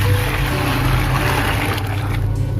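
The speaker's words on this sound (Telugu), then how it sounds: "హాట్ వాటర్ అయితే పోసుకోవాలండి." Hot water pours steadily into a container for dyeing fabric black, a continuous rushing, gushing stream with no pauses and no voices.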